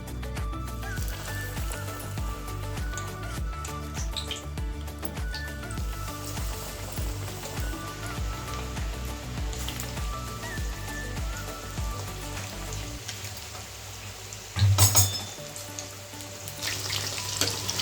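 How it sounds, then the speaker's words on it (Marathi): Battered chicken pieces frying in hot oil for a crispy chicken chilli, a steady loud sizzle throughout with a sharp burst of crackling near the end as more pieces hit the oil. "तेल चांगलं तापलेलं आहे। आता आपण ते चिकनचे पीसेस टाकू।"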